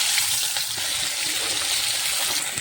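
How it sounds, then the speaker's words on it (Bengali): Koi fish fry in hot oil in a pan, giving a dense, even hiss that holds steady throughout, with no voices. "তেল গরম হয়ে গেছে, মাছ দিয়ে দেবো,"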